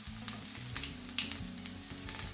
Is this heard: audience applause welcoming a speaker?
no